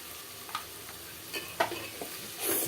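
Chili powder mixed by hand into fish pieces for a spicy pulusu, with a few soft, wet squelching and stirring sounds, fairly quiet and spaced apart.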